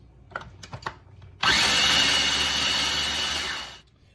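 A blender gives parsley tahini dressing a final whiz after a few light knocks, running loud and steady at high speed for over two seconds before spinning down.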